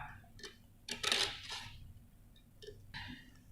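A kitchen knife is drawn across a sharpener in a few short, scraping metallic strokes with gaps between them, faint and close against a quiet room.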